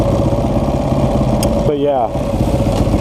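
A motorcycle engine running steadily with a low, pulsing idle beneath close male speech, with a brief higher-pitched rising tone midway.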